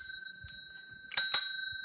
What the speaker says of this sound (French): du coup, j'ai pris la petite sonnette.